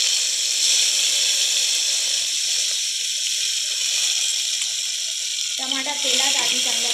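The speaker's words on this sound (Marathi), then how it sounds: "तेल गरम झालं की सगळ्यात आधी टमाटा घालूया।" Tomato hits hot oil in a pressure cooker and sizzles with a steady, bright frying hiss throughout, with a voice briefly speaking near the end.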